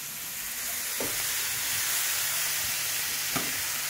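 Sambaza fish frying in sauce give a steady broad sizzle throughout, with two brief louder crackles standing out against the constant hiss; no one speaks.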